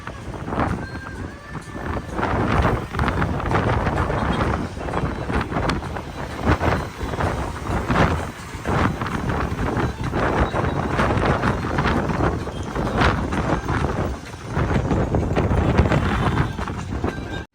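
Loud, continuous wind roaring and buffeting steadily throughout on the upper deck of a KSRTC Swift open-top double-decker bus, over a low rumbling vehicle noise, with no clear pauses.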